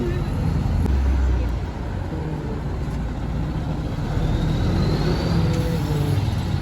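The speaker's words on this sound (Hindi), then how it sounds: "गाड़ी जा रही है जी" A vehicle pulls away on a road, its engine rumble fairly loud at first and then holding steady with the surrounding traffic noise, while voices talk faintly in the background.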